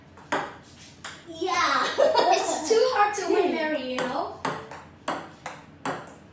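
Ping pong balls bouncing and clicking sharply against a table and paddles during a casual home game, repeated quick pings spread through the clip alongside people talking.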